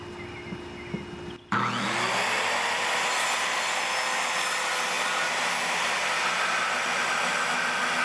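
After a short quiet lead-in, a power saw spins up and cuts plywood pieces to height for a router cabinet, a loud, steady, close whine that holds unbroken to the end.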